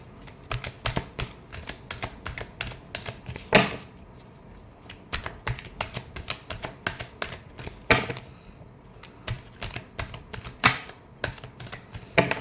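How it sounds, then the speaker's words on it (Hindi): Tarot cards are shuffled by hand at close range in a rapid series of crisp riffles and taps with brief pauses between bursts. No one speaks. "Last shuffle."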